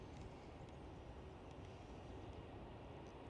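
A Delta Air Lines Airbus A330neo at Amsterdam Schiphol airport gives off a faint, distant, steady jet rumble with no voices over it.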